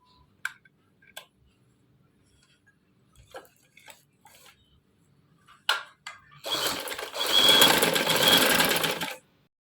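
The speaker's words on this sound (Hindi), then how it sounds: "अब इसके किनारों" Several sparse clicks and taps of fabric handling lead into a sewing machine running fast and steady for about three seconds, stitching along the edges of fabric patched onto a shirt for a winter frock, close and alone.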